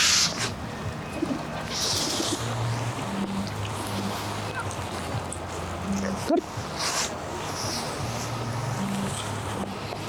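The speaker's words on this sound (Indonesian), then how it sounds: "Ada burung di bawah, burung dara gitu." A pigeon coos in low, repeated phrases outdoors near a World Cup stadium in Kaliningrad, Russia, set against steady ambient noise, with a sharp knock partway through.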